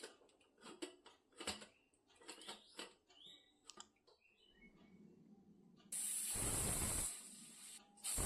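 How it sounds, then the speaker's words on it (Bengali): Pressure cooker on a high flame with dal inside lets out a loud, close, sustained hissing steam whistle lasting about a second, after scattered kitchen clatter and clinks. "ঢাকনা লাগিয়ে আমি হাই ফ্লেমে 4টে সিটি দিয়ে নেব।"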